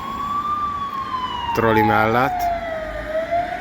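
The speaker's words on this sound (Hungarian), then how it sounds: "pont nem jó, mert jön a mentő" An ambulance siren sweeps past beside a trolleybus on a narrow city street with a roundabout, a wailing tone rising and falling over steady traffic rumble, with a loud horn-like blast midway, while a person talks over it.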